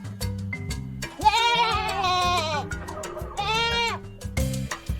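A goat bleats in several drawn-out, wavering calls against a busy background of music-like tones, the loud cries standing out clearly in the middle and near the end.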